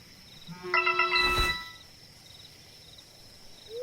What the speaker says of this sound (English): it's not a call, it's just a text message from Emily